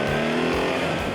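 A BMW R 1300 GS 2024 adventure motorcycle with 145 horsepower pulls hard under acceleration, its engine giving a loud, close, steady drone that holds through the short burst.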